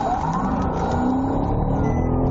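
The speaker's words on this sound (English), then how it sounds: "They're off-roading right now, going through a ditch." A Nissan Murano engine roars continuously, close and loud, with rough rumbling as the vehicle drives off-road through a ditch.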